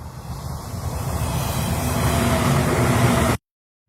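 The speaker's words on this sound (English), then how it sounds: "You can see we also have car effects" Stock traffic sound effect of a passing car: a steady, rising road rush that builds for about three seconds and then cuts off abruptly.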